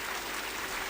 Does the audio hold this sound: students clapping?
yes